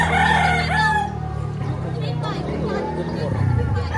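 Gamefowl roosters such as Golden Boy, Gilmore and Hatch Gray crow loudly and nearby at a Padre Garcia, Batangas farm, one long crow followed by other birds and people talking over farmyard babble.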